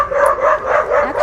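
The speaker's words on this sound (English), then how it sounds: "If listening to dogs barking is peaceful to you" Dogs barking and yipping in a continuous, excited chorus, loud and fairly close, with no talking over it.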